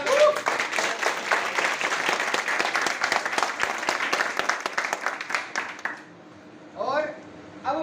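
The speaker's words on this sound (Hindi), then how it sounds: "आज जितने भी पेंटिंग कॉन्ट्रैक्टर भाई यहाँ आए हैं, हम सब लोग इनका तालियों द्वारा स्वागत।" Applause breaks out at a paint shop opening to welcome painting contractors, a crowd clapping steadily for about six seconds before it stops abruptly, followed by a few faint voices.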